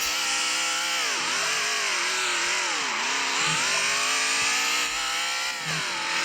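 A car drifting in a racing video game, its engine whining loudly and continuously with pitch sweeping up and down as it slides through turns, with no talk.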